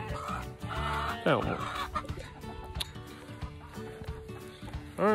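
Chickens cluck and squawk repeatedly nearby, with rustling and clattering around them and a brief spoken remark.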